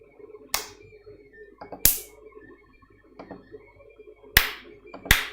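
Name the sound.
hand clapping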